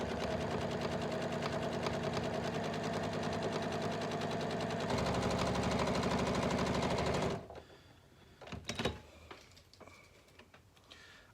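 A sewing machine runs steadily and loud for about seven seconds while stitching the curved seam of a reusable fabric face mask, then stops, followed by a few quiet handling clicks and rustles.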